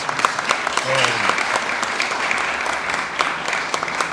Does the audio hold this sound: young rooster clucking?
no